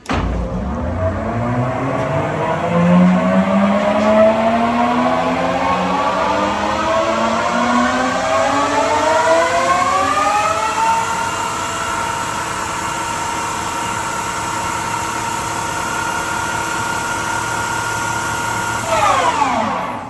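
A TRAK TRL 1745P lathe with LX2 control spins its spindle up to high speed, a whirring tone climbing steadily for about ten seconds, then holding a loud, even mechanical whine before beginning to wind down at the end.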